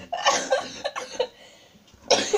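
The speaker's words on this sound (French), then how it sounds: "Excusez-moi parce que je tousse beaucoup en ce moment." A woman coughs in several harsh bursts close by, a quick cluster and then another cough after a short pause.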